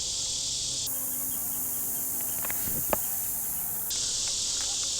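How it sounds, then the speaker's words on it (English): Honeybees cover a hive lid during a requeening check, giving a steady, close, insect-like buzz with a brief tick in the middle, with no voices. "There's a lot of bees on that lid."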